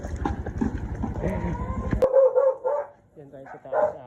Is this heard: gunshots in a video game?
no